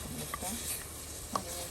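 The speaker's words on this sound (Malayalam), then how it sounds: "ഇതിപ്പോൾ ഇങ്ങനെ തിളച്ച് വരുന്നുണ്ടല്ലോ" Drumstick and jackfruit seeds simmer in a pan with a small amount of water, making a faint, soft bubbling hiss broken by a couple of light clicks.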